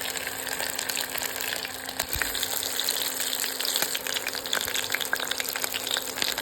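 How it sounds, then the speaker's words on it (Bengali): Fritters made with fish oil deep-fry in hot oil, a continuous bubbling, crackling sizzle heard up close with occasional sharper pops. "তো চলো তেলের বড়াগুলো ভেজে নিই আমরা ফটফট করে।"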